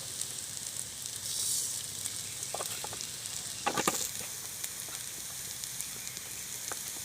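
Amla pickle is stirred with sugar in a hot pan, giving a faint, steady sizzle with a brief cluster of spoon scrapes and clinks in the middle.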